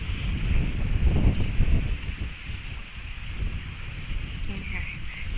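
Strong wind buffets the microphone on a boat trip in cloudy, stormy weather, a steady low rumble that swells loudest in the first two seconds, with faint talk in the background.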